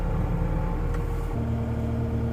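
A New Holland C327 skid steer's engine runs steadily at close range, a loud continuous rumble that shifts to a lower idle tone partway through.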